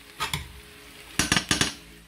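Mushrooms dropped into a metal frying pan for a Jägerschnitzel, heard as two quick clatters followed by a burst of four or five louder knocking clinks close by, with no talking.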